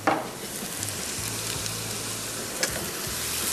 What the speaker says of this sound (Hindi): सो इसको तेज़ आंच पे फ्राई करते जाएंगे